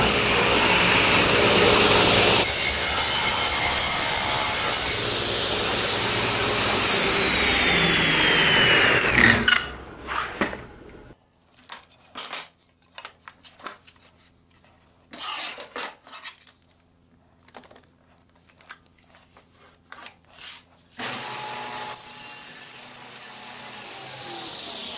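A power saw cuts a wooden trellis part held on a clamped indexing fixture, a loud whining run for about ten seconds, then quiet clattering handling knocks, and the motor spins up again near the end.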